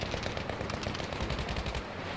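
Rapid gunfire bursts and low explosive thumps in the Battlefield V video game, a dense, continuous barrage close up with no talking.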